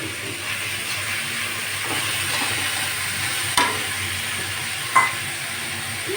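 Dal with green chillies in a pan gives off a steady low sizzle while being stirred, with two sharper knocks of the utensil against the pan partway through.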